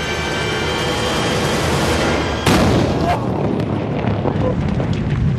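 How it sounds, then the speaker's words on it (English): A single loud explosive bang from a lit charge simulating a supernova, set off outdoors, bursting suddenly after steady background rumble and wind, then dying into noisy roar. "Man, that was a bang!"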